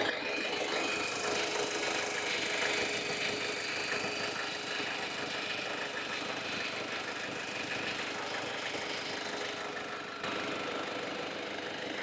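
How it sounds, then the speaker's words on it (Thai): A Ford Everest 2.5 diesel SUV engine idles steadily at close range, a smooth, even rumble with a faint ticking clatter and no change in pace. "เครื่องยนต์ก็ถือว่าเดินเรียบเดินนิ่งไม่มีสะดุดนะครับ"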